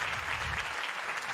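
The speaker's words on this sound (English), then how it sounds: "I give him applause." Applause on a wrestling podcast, a steady wash of clapping held at even loudness throughout, with no talk over it.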